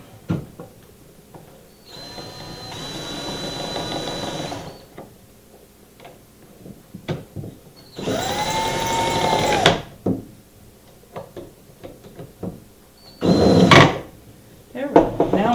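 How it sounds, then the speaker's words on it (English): A power drill whirs in three separate bursts of a few seconds each, tightening bolts while assembling a rigid heddle loom, with clicks, knocks and handling noises between them, close up. "I'm going to take my drill and tighten that up."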